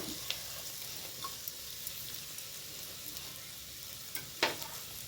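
Okra sizzles steadily in a pan for a tamarind-based curry, a soft continuous fry with a few faint stirring clicks and one louder scrape near the end.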